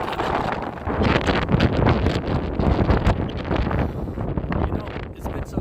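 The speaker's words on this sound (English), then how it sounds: "it really is a wind tunnel" Wind rushing down a downtown San Francisco street that acts as a wind tunnel, a loud continuous buffeting roar against the microphone throughout.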